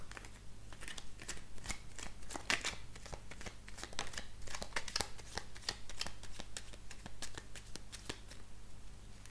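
Cartomancy cards shuffled by hand in a steady run of quick, crisp riffling flicks, close and fairly quiet, with no voices over them.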